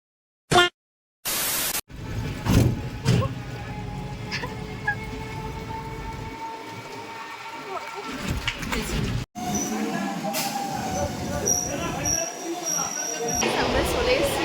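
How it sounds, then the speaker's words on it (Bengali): A passenger train bound for Howrah rolls along with a continuous rattling rumble and scattered clanks and squeals, opening with a couple of abrupt bursts before the steady ride noise. "আমরা চলে এসেছি এখন ট্রেনে। যাচ্ছি আমরা হাওড়া।"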